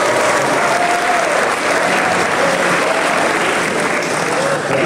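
Loud, dense applause from a school audience at a senior high school in Bekasi, sustained and close, with a faint voice buried in the crowd noise.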